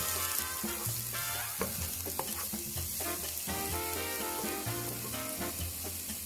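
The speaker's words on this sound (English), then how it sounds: "So then we heat oil in a vessel and put the onion in and saute the onion well." Onions sautéing in hot oil in a vessel for Goan mutton xacuti, a continuous close sizzle with stirring scrapes, steady and fairly loud throughout, no voices.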